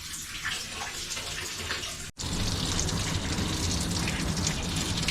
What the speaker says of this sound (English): Just run it out of the pipes real quick.